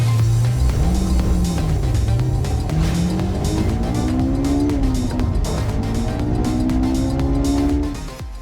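A 2025 Kia K4 GT-Line with a turbo engine drives hard, its loud engine note climbing and falling through gear changes, with tire noise and no talking, until the sound eases at the end.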